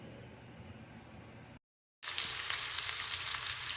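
Patra tempering in a pan, a close, steady sizzle and crackle of frying that cuts out briefly and then returns louder and brighter.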